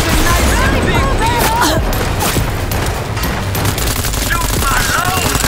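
Heavy gunfire in Cyberpunk 2077: Phantom Liberty, set in Dogtown, with sustained loud automatic bursts, booms and chaotic combat noise throughout.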